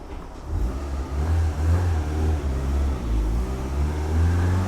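A Honda Civic engine hums steadily with rising and falling revs as the car drives along, a continuous mid-low drone heard from inside, no talking.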